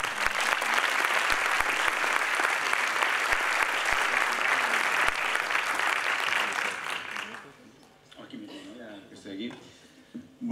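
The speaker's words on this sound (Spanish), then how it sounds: "Un aplauso para él." Loud audience applause fills a film festival opening gala as a filmmaker is called to the stage, steady dense clapping that fades out after about seven seconds into someone speaking.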